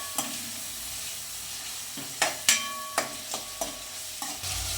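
Poha mixture with half a lemon's juice and sugar being stirred in a pan, a spoon scraping and tapping in several distinct strokes over a soft sizzle, with no talking.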